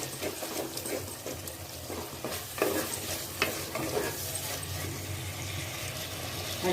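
Ginger garlic paste frying with softened onion and tomato in a pan for a chicken leg piece gravy, a steady moderate sizzle with stirring scrapes and occasional soft clatters throughout.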